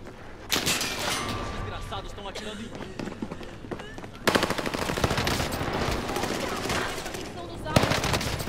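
Rapid automatic gunfire from Call of Duty Modern Warfare crackles in dense, sustained bursts that grow louder and heavier midway, with a voice faintly present underneath.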